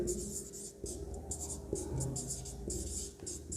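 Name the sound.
writing during a physics lesson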